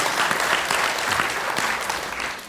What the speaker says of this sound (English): Big round of applause for people who support Labour in the room.